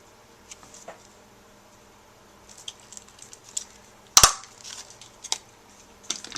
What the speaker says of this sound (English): to get the hole in there, all I used was a handheld punch